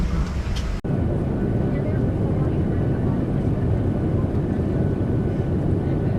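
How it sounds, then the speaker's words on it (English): Cabin of a large wide-body airliner with three rows of seats, a loud constant engine and air roar that briefly cuts out near the start, then drones on evenly. "This airplane we're getting on is a big one."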